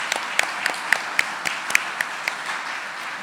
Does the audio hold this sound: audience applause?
yes